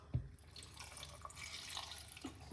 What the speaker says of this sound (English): we're gonna add a little bit of coconut water